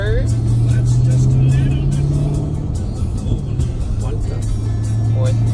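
A car fitted with a Barton shifter pulls up through its gears, the engine note loud and close with a sustained low drone and rev changes, under continuous talk.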